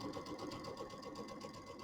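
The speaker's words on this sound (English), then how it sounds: "we're just going to do our 1/4 inch seam all the way around here." A sewing machine runs steadily, stitching a quarter-inch seam around a pillow cover, with a fast even whir that stays close and continuous and has no talking.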